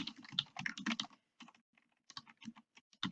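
Typing on a computer keyboard while creating a new document, with rapid clustered keystrokes up close that come in bursts with short pauses between them and no voices.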